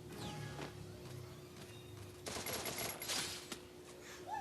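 Gunshots ring out in a video game training mode, a fairly faint cluster of rapid cracks in the middle of the stretch over low background game noise.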